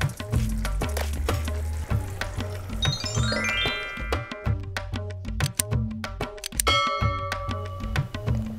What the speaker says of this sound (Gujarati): 8 થી 10 મિનિટ માટે આપણે આ દાળને કૂક કરી લેશું અને વચ્ચે વચ્ચે આપણે તેને હલાવતા રહેશું